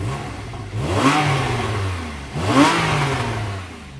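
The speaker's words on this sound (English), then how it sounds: "in terms of just the sound it produces from when it's sort of normal temperature without the sports exhaust or the sport sort of button on" A Porsche 911 Targa 4S engine with the sports exhaust switched off is revved twice from warm idle, two short rising blips that fall back to a steady, moderately loud burble, heard alone.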